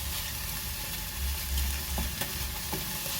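Onions and meat seasoned with Royco cubes cook down in a pan, giving a constant close sizzle with occasional light stirring taps and scrapes, no voices.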